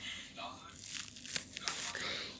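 Adhesive tape being pressed down and torn, with short crinkling and ripping bursts at irregular intervals, close and fairly soft over quiet room noise.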